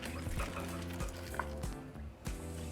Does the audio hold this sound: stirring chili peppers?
yes